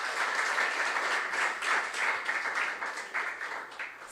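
An audience claps for a school team at a junior science and maths quiz final, a moderate burst of applause lasting about four seconds that swells and eases slightly.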